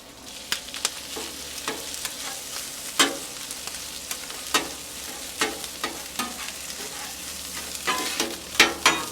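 Eggs and chorizo stirred together on a Blackstone griddle, a soft continuous sizzle punctuated by frequent sharp scrapes and taps of a spatula on the flat-top, close and moderately loud, without speech.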